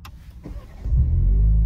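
A Toyota GR Supra 2.0 sports car starts up: a short starter whir, then the engine catches into a loud, close, low rumbling idle.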